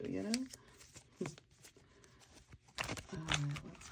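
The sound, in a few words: shuffling a mixed deck of oracle cards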